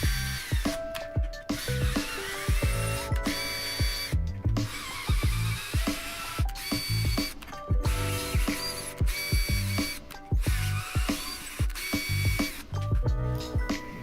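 A cordless drill driver tapping threads in metal whirs in repeated short bursts, ratcheting and grinding close up, with brief pauses between each run.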